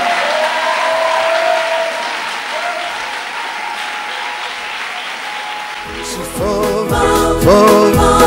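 Congregation at a church service clapping and acclaiming the Lord, a dense wash of applause mixed with voices, which grows louder and more rhythmic near the end as music joins in.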